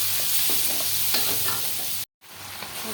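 Taro sautéed in a pan with chilli powder, spices and a few green chillies makes a steady sizzle broken by scraping stir strokes, with a short total dropout near the end.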